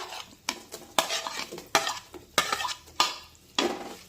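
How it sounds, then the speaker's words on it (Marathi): Semolina and sliced banana stirred in ghee over a low flame, with sharp, evenly spaced scrapes and clinks of a spoon against the pan every half second or so over a soft sizzle. "केळ असं तुपामध्ये रव्यासोबत परतून घेतलं ना"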